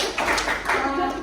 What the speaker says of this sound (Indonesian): boleh kalian tepuk tangan 3 kali